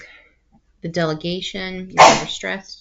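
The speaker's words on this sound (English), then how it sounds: "That was my dog coughing." A pet dog gives short, rough coughing bursts indoors, partly buried under a woman's nearby speech, with one louder harsh burst standing out midway.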